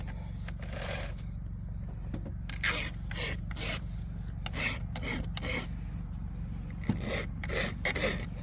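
A file sharpens a chainsaw chain in repeated rasping strokes, each a short bright scrape with brief pauses between, close and fairly quiet over a steady low hum.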